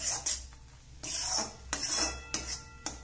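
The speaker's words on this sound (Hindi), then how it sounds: "हमारा मैदा अब बटर में अच्छी तरह से रोस्ट हो चुका है।" Flour roasting in butter in a pan for white sauce pasta, stirred with a spatula: repeated scraping strokes and light metallic clinks against the pan, with little audible sizzle.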